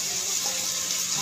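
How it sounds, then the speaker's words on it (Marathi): Onion dropped into hot oil hisses with a steady, loud, even sizzle that holds for about a second with no talking over it. "माझं तेल गरम झालंय चांगलं। आता मी याच्यात हा कांदा टाकणार आहे।"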